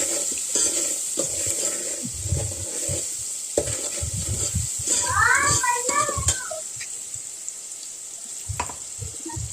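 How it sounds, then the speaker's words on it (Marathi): Chopped onion with salt stir-fried in oil over a village wood-fired stove, a steady close sizzle with utensil scrapes and clinks, someone talking over it. "आता हे आपल्याला छान परतून घ्यायचं आहे तेलामध्ये"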